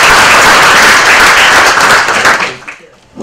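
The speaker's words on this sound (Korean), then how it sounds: "김남국 편집장을 큰 박수로 같이 모십니다." Audience applause welcoming DBR editor Kim Nam-guk at a book review concert, a loud burst of many hands clapping close by for over two seconds before it quickly fades out, with a small sound returning at the very end.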